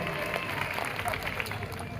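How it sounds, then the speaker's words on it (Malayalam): An audience at a stage event in Kerala applauds as team members are introduced, a dense continuous clapping that fills the space. "നല്ലൊരു കൈയടി പോന്നോട്ടെ"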